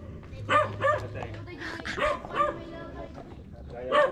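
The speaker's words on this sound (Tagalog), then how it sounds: "Ang aso pala yung Whitey" A white dog barks and yips nearby in a few short bursts, with people talking over and between the barks outdoors on a fishing trip in La Union.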